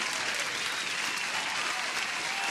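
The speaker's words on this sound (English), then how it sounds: "Vivian, let me give you an applause." Steady applause from a small group rolls on without a break, moderately quiet and even in level from start to finish.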